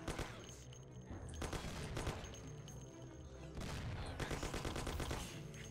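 Thompson submachine gun fire in the Mafia video game, with rapid bursts of automatic shots that come in several long stretches, loud and close, and the louder bursts sound as if they are hitting nearby surfaces.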